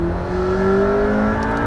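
McLaren hypercar accelerating at half throttle: a loud, sustained engine drone with a slowly rising pitch, heard from inside the cabin with no talk.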